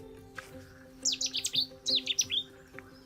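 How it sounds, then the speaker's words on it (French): A Cetti's warbler at a nature reserve bursts into its loud, explosive song, two rapid phrases of sharp repeated notes standing out over a low steady hum. "Là c'est la bouscarde de Séti"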